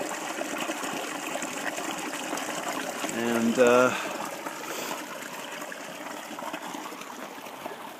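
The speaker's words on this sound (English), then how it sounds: "So here's where I collect my water for my water filter" A stream running beside a backcountry basecamp where water is collected for a filter, with steady trickling and rushing flow throughout and a brief louder splash midway; a voice speaks faintly over it.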